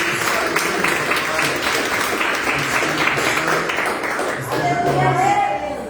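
A church congregation applauds at a Sunday service, a steady wash of many hands clapping that thins slightly toward the end as a voice and some tonal sound come in.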